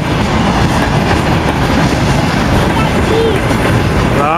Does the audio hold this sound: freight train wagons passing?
yes